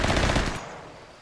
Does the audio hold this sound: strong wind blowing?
no